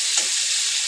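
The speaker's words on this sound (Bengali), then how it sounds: "এখন আমি পটলগুলো সুন্দর করে লাল লাল করে ভেজে নিচ্ছি।" Pieces of pointed gourd (potol) fry in hot oil in a pan until reddish, giving a short, steady hiss of sizzling that stays even and close for under a second, with no voices.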